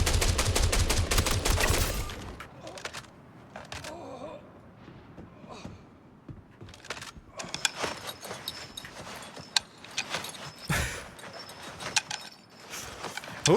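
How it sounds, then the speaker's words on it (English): Gunfire in Star Citizen: a rapid burst of automatic shots up front, then scattered sharp single cracks and pops amid quieter game noise. "Who is he shooting at?"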